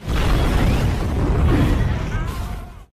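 A loud, rumbling explosion near a building in a Shah Rukh Khan mafia action film roars for about three seconds, a dense, sustained blast that cuts off abruptly.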